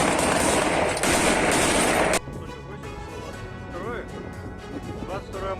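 Chechen fighters firing on Ukrainian soldiers in a war zone near Kyiv, a loud, dense burst of sustained automatic gunfire that cuts off abruptly, followed by quieter background with faint voices and distant noise.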